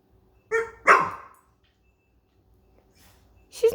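A dog gives two close, sharp barks in quick succession, then falls quiet before a third bark begins at the end.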